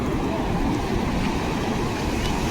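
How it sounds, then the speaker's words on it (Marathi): Big ocean waves breaking at a beach, a steady broadband wash of surf with some wind buffeting, moderately loud and unbroken over a few seconds. "लाटा बघ किती आहे मोठी."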